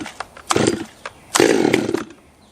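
A Stihl or Husqvarna top handle chainsaw on full choke gets pull-started, with a few short cord-pull rasps followed by two brief sputtering bursts as the small engine tries to catch, close and loud.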